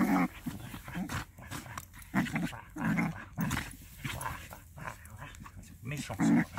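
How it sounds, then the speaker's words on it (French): A dog makes short whimpering and growling sounds in bursts, mixed with people talking nearby. "le chien."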